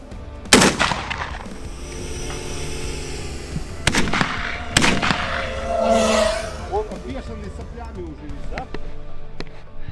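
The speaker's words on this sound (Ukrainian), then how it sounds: "будемо працювати відпрацьовувати стрільбу з гладкоствольної рушниці" Several sharp, loud smoothbore shotgun blasts ring out outdoors during drone-shooting practice, spaced a second or more apart, with a person talking between them.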